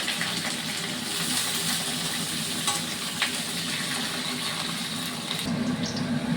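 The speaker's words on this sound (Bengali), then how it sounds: "সজনাটা ভেজে নেব" Moringa drumstick pieces fry in hot oil in a pan, giving a steady, dense sizzle with faint scraping stirs throughout and no voices.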